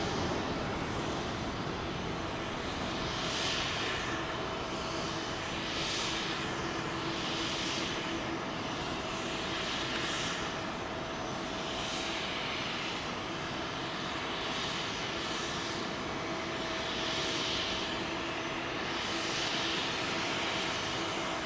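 A jet airliner landing on runway 27L at London Heathrow, a steady, distant engine roar with a faint repeating whoosh as it carries on for over twenty seconds, no voices.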